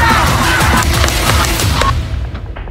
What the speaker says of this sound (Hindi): लेकिन तभी गोलियां चली और वहां अफरा तफरी मच गई